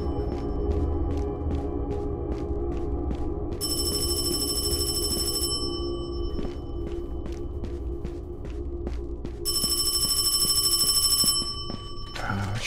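Telephone ringing in two long electronic trill bursts over a steady low background hum with scattered ticks.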